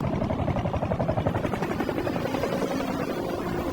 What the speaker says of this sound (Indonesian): tiba-tiba 2 helikopter FBI datang untuk menangkap Swagger